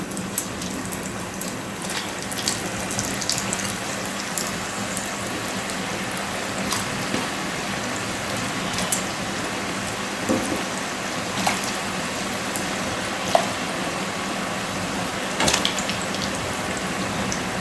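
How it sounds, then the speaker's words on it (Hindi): Poha kurkure frying in hot oil over medium heat, a steady, dense crackle and sizzle that stays even throughout, close by with no talk. "तेल हमारा गर्म हो गया है और हम इसमें इनको डाल देंगे इस तरह से।"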